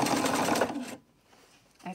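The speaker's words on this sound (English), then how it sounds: "And now I'm sewing downwards to this corner." A sewing machine stitches a shopping bag handle in a fast, even zigzag run, up close and loud for about a second before stopping, with a quiet pause and a small click at the end.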